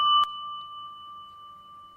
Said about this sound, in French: Heidi avait découvert une sonnette contre le mur,